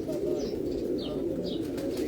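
Fancy breed pigeons at a Lahore loft coo in a close, continuous low rolling murmur, with a few faint higher chirps from small birds above it.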